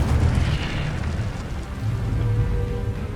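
Casting the Incendio fire spell in Hogwarts Legacy unleashes a loud, dense roaring whoosh of flame, a sustained rumbling burst close up that lasts the whole moment, with no talk over it.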